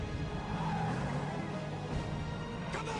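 Ford Mustang tires spinning in a movie scene, a steady, loud wash of tire and engine noise running throughout with a brief squeal rising near the end.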